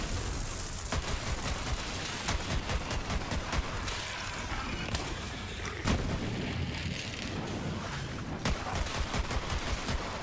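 Gunfire crackles and booms in the video game Borderlands 3, repeated shots and impacts in an irregular, loud stream with heavier thumps scattered through, close and dense, without talk.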